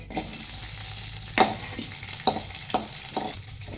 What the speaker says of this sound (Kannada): ಎಣ್ಣೆ ಕಾದೈತೆ. ಹಸಿಮೆಣಸಿನ್ಕಾಯಿ ಒಂದು 5-4